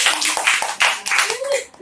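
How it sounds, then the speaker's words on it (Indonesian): A group claps briefly for a child during a Ramadan talk show, bursts of applause mixed with voices talking over it. "Kasih tepuk tangan dulu."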